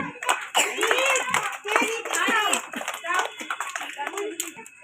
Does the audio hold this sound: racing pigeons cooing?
no